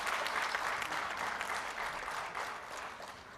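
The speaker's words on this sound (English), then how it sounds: "may we have another round of applause for these officers and the entire team of IPAs and the IBBI." Audience applause for officers and an organising team at a conference on entrepreneurship and IP, dense steady clapping from a large crowd lasting several seconds and gradually easing.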